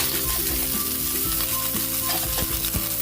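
Mussels sizzle and fry steadily in a pan for ginisang tahong, a loud continuous crackle with occasional stirring knocks and no talking.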